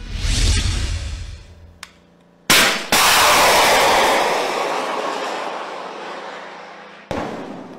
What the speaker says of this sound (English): Ito ang Javelin anti-tank weapon system ng United States Army. Nagpapakawala ito ng missile na kayang sirain ang mga tangke